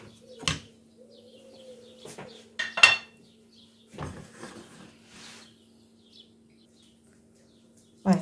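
A stainless steel frying pan is set on the stove, giving a few sharp metallic clanks and knocks spaced apart in a quiet kitchen, with a faint steady hum behind and a few faint chirps.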